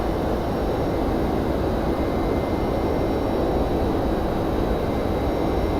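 Boeing 767-300 engines drone in flight in the X-Plane 11 flight simulator, a steady, loud, broadband roar that holds constant throughout with no voices.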